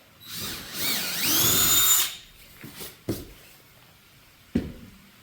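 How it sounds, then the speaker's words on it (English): A power drill whirs for about a second, rising in pitch as it bores a hole through carpet for an anchor, then stops; a few knocks and clicks follow. "Drill out your next hole."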